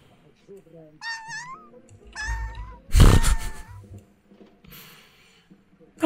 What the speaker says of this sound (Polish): ona tak sobie tutaj zawodzi, tak sobie skamle i miauczy